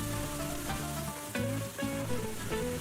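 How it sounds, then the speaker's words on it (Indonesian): A blended paste of bird's eye chili, large red chili and turmeric sizzles steadily in hot oil, a dense continuous crackle with occasional stirring scrapes, close and loud throughout. "Kita aduk merata dan tumis bumbu hingga matang."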